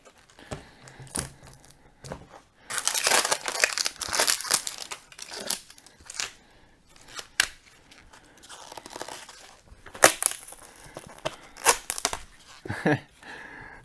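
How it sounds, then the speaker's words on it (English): The cushioned max comfort grip being ripped and unwound from a Joola Ben Johns Hyperion pickleball paddle, loud close crinkling and tearing bursts in irregular spurts, alone without talk. "Rip this apart. Here we go. Unraveling the grip."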